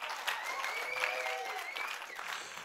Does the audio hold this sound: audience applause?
yes